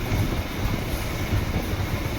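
A Chennai EMU suburban electric train runs near St. Thomas Mount station, giving a steady, loud low rumble of wheels and carriage noise with no pauses.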